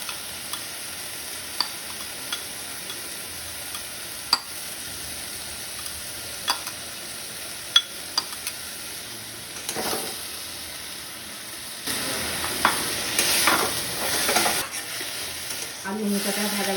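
Potatoes and banana flower, cooked for a prawn dish, fry quietly in a pan. A spatula knocks and scrapes against it at irregular intervals, and a few bursts of louder sizzling and stirring come near the end.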